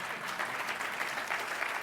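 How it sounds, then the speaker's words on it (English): A crowd applauds during a mayor's State of the City speech, giving sustained, fairly loud clapping from many hands with no voices standing out. "Yes, we should applaud for that."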